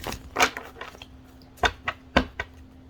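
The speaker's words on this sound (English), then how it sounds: "Let me shuffle it 2 more times" Tarot cards being shuffled in a few quick riffling bursts, close and fairly soft, with short pauses between each pass and no talking.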